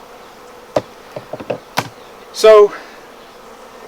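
Honey bees around hive frames: a few sharp knocks and clicks from handling the woodenware, then one short, loud burst of buzzing close by.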